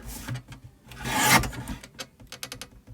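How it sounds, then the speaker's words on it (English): Card being trimmed on a paper trimmer, a rasping slide of the blade swelling to a loud scrape near the middle, followed by several short clicks and taps, close and alone. "I'm just going to trim there."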